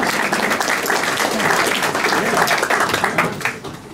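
A burst of crowd applause at a jazz festival performance, dense clapping from many hands, loud and close, fading slightly toward the end.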